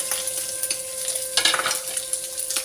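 Chopped onion goes into a pan of frying pancetta and sizzles steadily with a loud, continuous crackle, while a utensil stirs through it and scrapes in bursts near the middle. No one speaks.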